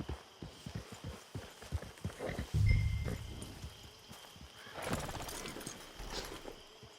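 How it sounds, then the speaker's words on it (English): Horse hooves clip-clop at a walking pace in the Red Dead Redemption 2 Online game, close and rhythmic, with a brief snort or whinny midway and some faint ambient sounds behind. "Get your horse."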